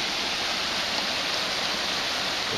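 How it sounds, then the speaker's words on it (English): A small creek, swollen after heavy rain, rushes steadily nearby on a hike to a waterfall, a constant close wash of flowing water with no pauses. "This little creek here."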